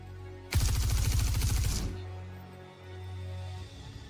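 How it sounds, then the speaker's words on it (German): A single loud burst of automatic gunfire in Star Citizen rattles for over a second, then cuts off, leaving a low steady hum. "er hat schon so viel Schuss in dieses Geländer gehauen."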